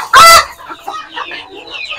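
Desi chickens on a small poultry farm, with one loud, close call at the start followed by softer, scattered clucking.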